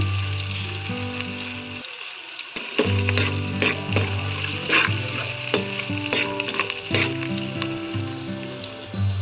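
Mustard seeds, turmeric, curry leaves and hing sizzle in hot oil for a raw jackfruit seed-skin palya, giving a steady frying hiss with scattered pops and crackles over a low continuous hum.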